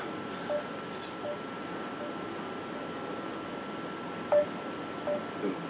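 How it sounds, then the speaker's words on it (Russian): Call tones during a phone or online call connection: a few faint, short electronic beeps spaced irregularly over a steady low background hum. "Да, вызов есть, но пока нет соединения."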